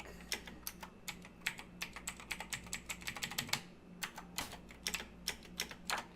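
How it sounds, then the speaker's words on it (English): Computer keyboard keys clatter in quick irregular bursts of close, crisp clicks while someone plays a game jam game, with a brief pause midway before the tapping resumes, no speech heard. "I keep pressing shift, and that happened."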